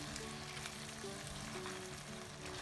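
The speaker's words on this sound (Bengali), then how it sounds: "এবার ভালো করে আমি এভাবে করে মশলার সাথে কষাতে থাকবো 5 মিনিট" Beef tripe frying and being stirred with spice masala in a pan, a steady close sizzle with faint scraping, with steady tones of background music running throughout.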